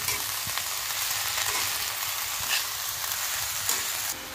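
Vegetable bhaji stir-fried in a pan, a continuous close sizzle with faint scraping stirs, which drops slightly near the end, no speech.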